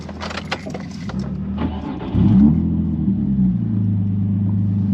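Race cars pulling in at a podium area, with a steady low engine rumble and idling growl close by and a brief rise in revs midway.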